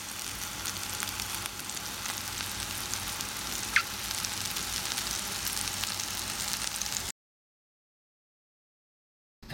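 Tandoori chicken fries in a pan with a close, steady sizzle and fine spattering crackle for about seven seconds before cutting to silence.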